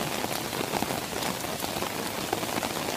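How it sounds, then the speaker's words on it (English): Rain patters steadily on a street in Girona, Spain, a dense close hiss with scattered droplet taps, continuous and alone without voices. "Just wish the rain would stop."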